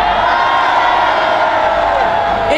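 Large protest crowd at a street demonstration, a loud continuous roar of cheering and shouting voices sustained throughout, with a few whoops rising near the end.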